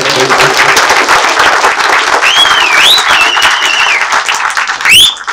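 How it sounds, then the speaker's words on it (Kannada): A premiere-show audience applauds the Reverse Gear film team with loud, sustained clapping; sharp whistles rise over the crowd partway through and again near the end. "ಮೊದಲದಾಗಿ ರಿವರ್ಸ್ ಗೇರ್ ತಂಡಕ್ಕೆ ಬರಲಿ ಒಂದು ಜೋರಾದ ಚಪ್ಪಾಳೆ"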